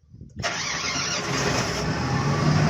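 A Hyundai Ioniq Electric car starting up: after a short quiet moment a broad, steady whirring hum comes on and holds, close and loud, with no talking.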